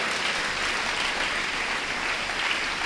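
A church congregation claps throughout, a dense, even wash of applause with no pauses and no voices rising above it.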